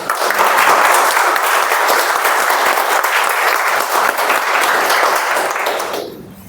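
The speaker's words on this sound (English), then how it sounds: "we will start our meeting with a clap" Meeting attendees clap together to open a club meeting, a loud, dense burst of applause that holds steady for about six seconds before stopping abruptly.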